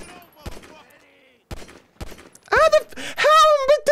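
Gunfire in GTA V, heard as sharp shots spaced out and interleaved with brief game voices, then louder bursts toward the end.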